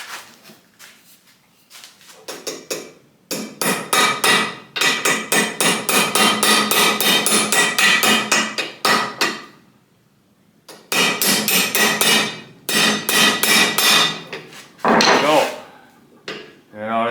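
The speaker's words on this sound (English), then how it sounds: "And I'm going to want a real hammer for that." Hammer driving a rod into an Atlas 10 inch saw during a rusty restoration, loud rapid metallic strikes in two long bursts and a few scattered taps, close up with no talk.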